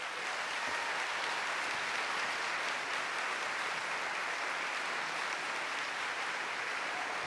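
A town hall audience applauds a speaker's welcome, producing a steady wash of many hands clapping at moderate volume that continues without a pause for the full stretch.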